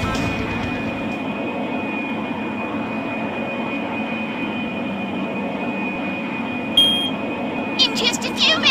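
Steady airplane cabin hum in flight from a cartoon, a continuous broadband engine drone with a faint high whine, plus a few brief bright clicks near the end.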